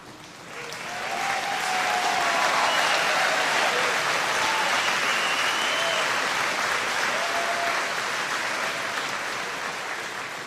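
An audience in a hall applauds honor roll students at a senior recognition day, sustained dense clapping that swells quickly and holds steady for several seconds before easing slightly.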